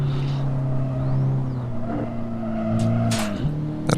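A Honda Civic Type R accelerates in the racing game Assetto Corsa on the Nurburgring, its engine note climbing in steady tones before a gear change, with brief tire noise near the end.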